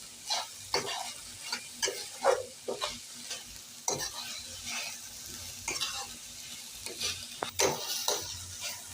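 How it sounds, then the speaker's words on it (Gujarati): Onions, garlic, ginger and cabbage are stirred and roasted in a pan, with a spoon scraping in repeated short strokes over a steady, close sizzle and no talking. "બધું બફાઈ જાય ત્યાં લગી બધું શેકવાનું છે"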